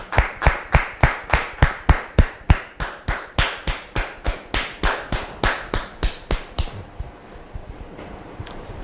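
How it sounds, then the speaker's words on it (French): A studio audience welcomes a guest named Monsieur Roger with steady rhythmic clapping in unison: about twenty sharp, evenly spaced claps that soften slightly before stopping, followed by quiet room noise. "Je vous demande de le recevoir sous vos applaudissements"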